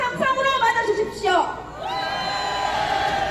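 Crowd cheering and shouting to greet a speaker at a patriotic rally in Seoul Station plaza, loud and close for the first second and a half, then a voice carries over the fading noise.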